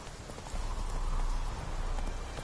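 Roach, the horse in The Witcher 3, gallops with a rapid, steady clip-clop of hooves, loud and close, with no talk over it.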